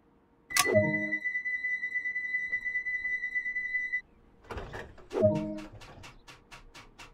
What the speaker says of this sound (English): Set the doors to locked.